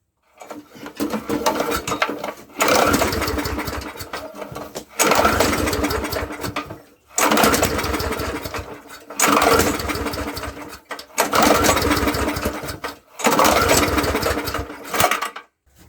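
Murray lawn mower engine being pull-started after a shot of carb spray: six loud, evenly spaced bursts of recoil-starter cranking, each about two seconds, separated by short pauses, with no catch.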